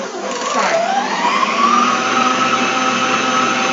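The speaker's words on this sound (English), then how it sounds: "you want to whisk them together until they're nice and fluffy" An electric whisk runs steadily while beating eggs and sugar into a cake batter, giving a loud continuous motor whine that rises slightly in pitch at the start and then holds.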